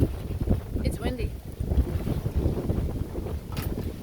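Gusty wind after Hurricane Zeta buffets the microphone in steady low rumbling bursts throughout, with a voice briefly audible beneath the roar.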